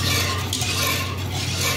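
Caramel maja blanca mixture with sweet corn and milk being stirred in a pot, a steady close scraping and swirling with faint clinks of the spoon against the pot, continuous and without talk.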